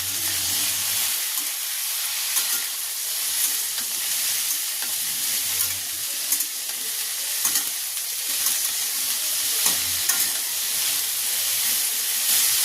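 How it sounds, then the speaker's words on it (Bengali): Chopped ivy gourd and potato frying in hot oil, a loud continuous hiss and sizzle with intermittent stirring scrapes and clinks running throughout. "এবারে কেটে রাখা কুঁদরি আর আলুটা তেলের মধ্যে দিয়ে দেব। এবারে ভালো করে নাড়াচাড়া করে ভেজে নেব।"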